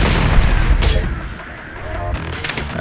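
Armor shard explosions burst in the video game DOOM Eternal, loud booming blasts with crackling debris that fade briefly and then rise again with further bangs.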